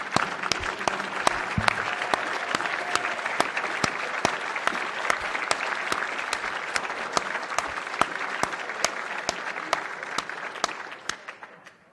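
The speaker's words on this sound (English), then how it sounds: "please stand up and let us give you applause" Sustained applause from an audience at a new member induction ceremony, a dense steady clatter of clapping with sharp individual claps standing out, carrying on evenly before tapering off at the end.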